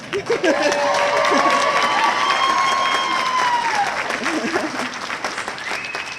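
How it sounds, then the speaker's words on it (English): Audience applause at an evening gala event, a full room clapping steadily and loudly for several seconds, with a few cheers and voices rising over the clapping before it slowly thins out. "Clap for the fact that now my treatment is over."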